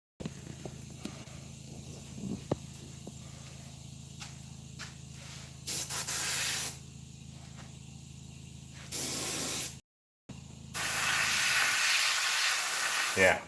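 An airbrush sprays blue paint onto an orc prop head, giving soft steady hissing with a few louder bursts of spray separated by brief pauses, close up and with no talk.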